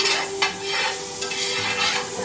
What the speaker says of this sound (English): Putting butter in this pan.